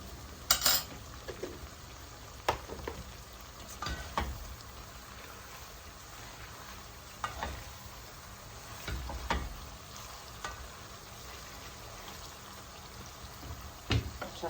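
Pilaf ingredients sizzle in a pot for a Tashkent-style shah pilaf, with a soft, steady frying hiss broken by intermittent scraping and clanking of a spoon stirring against the pot, close by and without talking.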